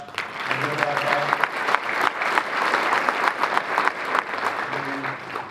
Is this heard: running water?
no